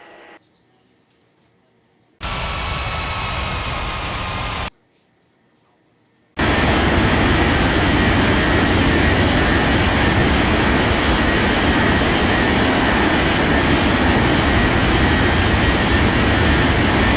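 Airplane jet engines roar during takeoff at an airport, a loud broadband rush that cuts in and out in short segments before settling into a sustained powerful drone.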